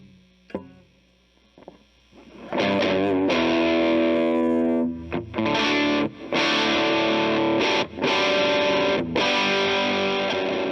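Electric guitar played through a Rose Electric Audio T.O.D.D. tube overdrive distortion pedal, loud saturated chords ringing out in several bursts with brief choked gaps between, after a few quiet picked notes, no talking.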